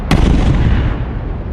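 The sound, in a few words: starship Leviathan firing its main cannons at dropships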